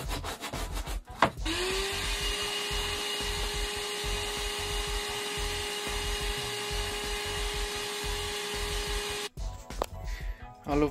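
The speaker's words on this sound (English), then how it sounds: "I love my little wet and dry vac." A small wet and dry vacuum cleaner runs steadily and close by with a constant whine and hum for most of the stretch, starting and stopping with handling clatter at either end on an off-grid boat.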